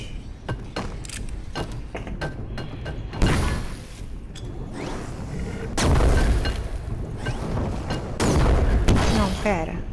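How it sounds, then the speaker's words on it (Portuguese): Loud booms and explosive blasts from bombs in the video game Max: The Curse of Brotherhood, a rapid burst of sharp hits followed by several heavier rumbling bursts, with a man's exclamations in between. "Nossa, bomba, bomba."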